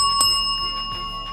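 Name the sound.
timekeeper's warning bell in debate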